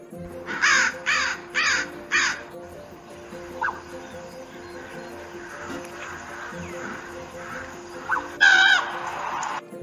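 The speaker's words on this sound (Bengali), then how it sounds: "এটা দ্বার কাকের ডাক ইংরেজিতে ক্রোক বলে" A crow caws four times in quick succession, loud and near, then after a quieter stretch with faint background sounds it gives one more harsh caw.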